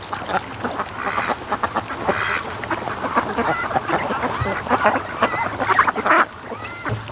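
Free-range ducks on a lake quacking and honking in a dense, agitated chorus as a canoe nears, loud and close with overlapping calls throughout and no talking.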